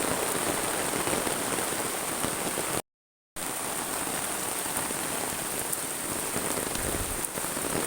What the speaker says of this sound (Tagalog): Ang lakas ng ulan